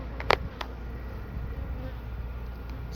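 Honeybees buzz around an open hive during a late September inspection, a soft, steady hum with a couple of brief louder passes as bees fly close.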